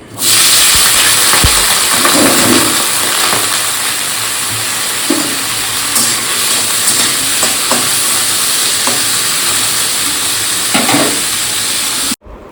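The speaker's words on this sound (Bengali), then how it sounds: "সেই জন্য কড়াতে একটু তেল দিয়ে আলুটাকেও চাপিয়ে দিচ্ছি" Potatoes cooking in a little oil in a wok make a continuous close sizzle, broken by a few soft stirring scrapes and clinks, and the sound ends abruptly.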